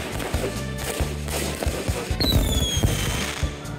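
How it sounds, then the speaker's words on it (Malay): Fireworks crackle and thump loudly, with a whistling rocket streaking downward partway through amid a dense, continuous backdrop of bangs. "bunyi letupan dan letusan bunga api yang kuat"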